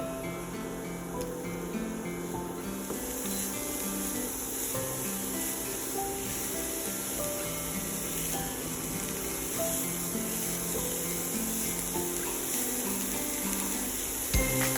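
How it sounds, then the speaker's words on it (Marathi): Carrots for gajar halwa sauté in a pan with a soft, steady sizzle and hiss that runs evenly for the whole stretch. No voices are heard. "आणि ते 2 ते 3 मिनिटं छान परतून घेऊया।"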